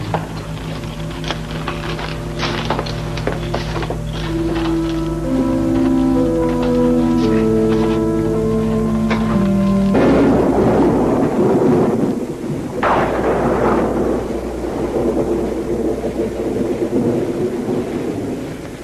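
A thunderstorm with steady rain rumbles in the background while a sustained musical drone plays over the first half, then thunder crashes loudly near the midpoint and the rain continues, heavy and close.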